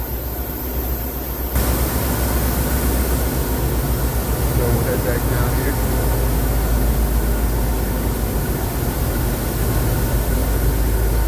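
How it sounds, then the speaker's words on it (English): Diesel train engines idle at a Chicago station with a loud, steady low rumble and broadband roar that fills the whole stretch, while someone speaks briefly over it. "It's pretty loud with this diesel engines idling"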